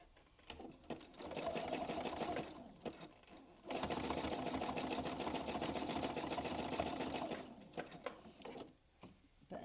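A sewing machine stitches a fabric bowl in long steady runs of rapid mechanical clatter, pausing briefly between bursts, fairly close and alone without talk.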